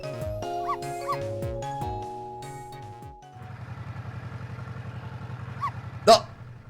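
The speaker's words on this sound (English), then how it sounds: "I barked!" Dog barking in the Ghost Trick: Phantom Detective video game, a few short barks and yips over game music, followed by a rapid rhythmic pulsing sound and a final louder yelp.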